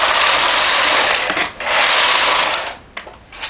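A knitting machine carriage with a ribber attached slides across the needle bed, a loud, close mechanical whirring rasp that runs for about a second and a half, pauses, then continues with a few clicks at the end.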